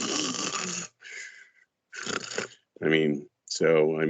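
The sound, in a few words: person imitating snoring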